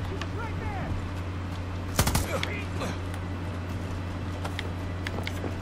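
Enemy militia gunfire in Far Cry 6 crackles through a noisy firefight, with a loud close burst of shots in the middle and scattered distant pops around it over a constant engine-like drone.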